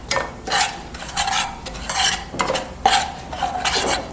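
Kashmiri chilli frying on low flame in a pan, a spatula scraping in repeated strokes about every half second over a soft sizzle, close and clear, with no voices.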